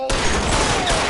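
A quick burst of gunfire erupts in the LA Noire video game, a dense fusillade of overlapping shots that is loud and close throughout.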